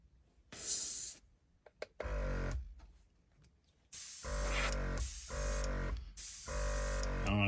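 A Gaahleri SENENAIR GTS-06 benchtop air compressor runs in several loud, close bursts of humming motor drone, broken by brief quiet pauses and short clicks.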